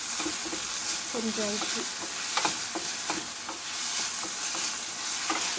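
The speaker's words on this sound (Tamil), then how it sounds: "ஒரு டொமேட்டோ போட்டு நல்லா வதக்கி விடுங்க." Tomato sautéing in a hot pan, a steady close sizzle with scraping stirring strokes of a spoon, while someone speaks briefly.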